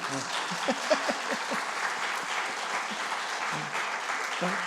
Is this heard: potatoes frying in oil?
no